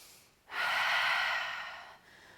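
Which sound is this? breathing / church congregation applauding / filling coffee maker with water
breathing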